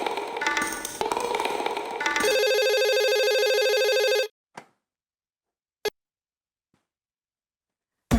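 Some clatter, then a telephone rings steadily for about two seconds and stops abruptly, followed by a few faint clicks in silence.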